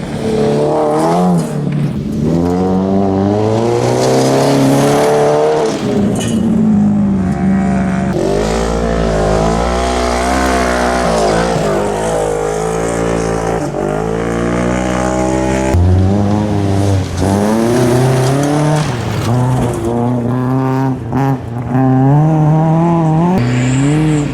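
AMX race car lapping a small speedway circuit, engine loud and close throughout, revving up and down through the gears with shifting pitch as it accelerates and brakes, tires squealing in the corners.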